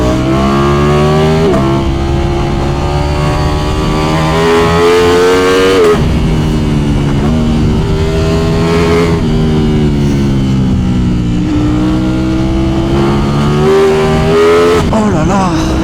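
A 2024 Ducati Streetfighter V4S motorcycle engine revs hard and loud, its pitch climbing and dropping as quickshifter gear changes cut in up and down, with brief voice sounds under the engine roar.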